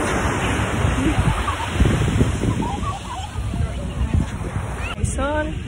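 Sea waves wash and slosh onto a beach with people in the water, a continuous close rushing surf while a voice talks over it throughout.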